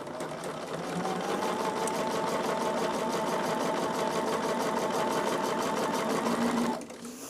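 A sewing machine stitches quilt pieces in a continuous, close, rapid run lasting several seconds at a steady pace, then winds down and stops.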